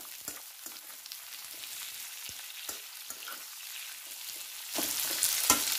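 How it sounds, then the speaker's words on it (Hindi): Chopped onion fries in hot oil over a medium flame for a jackfruit curry, giving a steady close sizzle with occasional stirring scrapes and a louder burst near the end. "मीडियम फ्लेम पर प्याज को दो तीन मिनट पहले भून लेंगे।"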